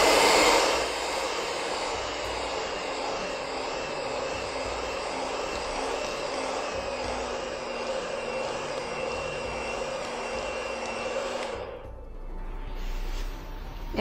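An electric mixer beats butter at low speed for ghoriba cookies, giving a steady, loud motor whir with a constant pitch that runs for about twelve seconds before stopping.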